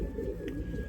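A racing pigeon, a dark or blue check bird held up close, gives a brief low coo, soft and near, with no talk.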